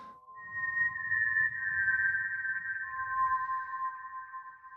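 Whistle-like synthesizer patch on a piece, held as a pure, steady high tone with a soft, faint low rumble beneath it, alone.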